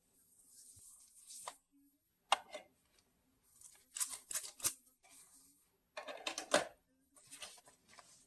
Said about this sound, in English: the envelope was a little too long, so I just trimmed it with a decorative edge with these